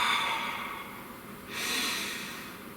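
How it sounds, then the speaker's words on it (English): A single slow, deep breath drawn in and let out close to the mic in a quiet room, a soft airy rush that fades and then swells again briefly. "Please take a nice deep breath."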